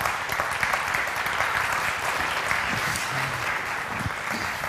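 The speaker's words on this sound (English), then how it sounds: "Standing ovation for Tony Rickardsson." A hall audience gives a standing ovation for speedway champion Tony Rickardsson, sustained dense clapping at a steady level for the whole stretch, with no voices over it.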